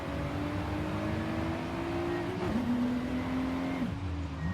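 An all-wheel-drive JDM car drifts with its engine held at a loud, sustained drone, its pitch dropping abruptly twice as it shifts or lifts, heard close without talk.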